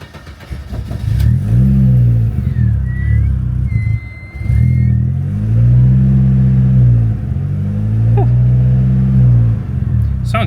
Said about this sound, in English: Sounds good, this car.